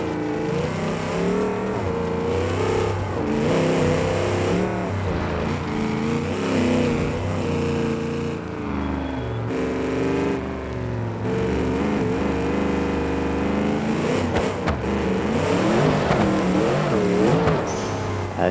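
A 6x6 truck engine driving in the video game BeamNG, a loud, continuous motor roar with shifting pitch as it revs and labors, close and dominant throughout.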